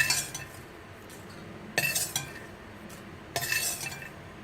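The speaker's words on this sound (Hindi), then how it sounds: "जब आप इसको ऊपर से ऐसे कढ़ाई में गिराते हैं तो ये आवाज़ आती है।" Roasted makhana (fox nuts) poured into a kadhai, giving three separate rattling, clinking bursts of light nuts striking metal, close and fairly quiet, with no talking.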